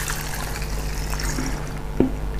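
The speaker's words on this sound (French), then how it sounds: "je verse mes 100 ml dans mon flacon vaporisateur" Seventy-degree alcohol poured through a funnel into a spray bottle, a soft, steady trickle of liquid lasting a couple of seconds, close and fairly quiet, ending in a small clink.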